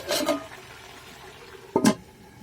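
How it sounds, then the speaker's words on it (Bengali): Water poured into a pot of chicken curry, two short splashy pours close by, the second louder, with quiet between them and no talk. "সিদ্ধ হওয়ার জন্য একটু জল দিয়ে দিলাম।"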